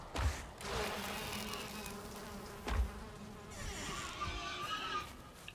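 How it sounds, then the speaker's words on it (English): Bees buzzing in a video game, a steady droning hum that stays loud throughout, with a couple of brief thumps and a swell of insect buzz near the end, no talking. "Mr. Piggy, you really shouldn't go near the bees."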